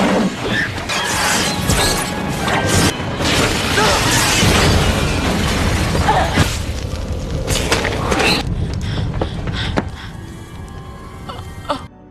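A loud film explosion erupts with a dense crashing roar of blast and debris that sustains for several seconds, then thins into scattered rattles and clatter before a final sharp knock.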